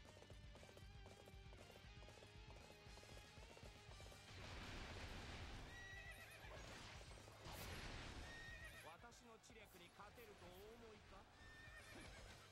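A horse neighs and whinnies in the video game Dynasty Warriors 8: Empires, with clip-clopping hooves and battle crashes, repeated calls rising over a busy soundtrack alongside game voices.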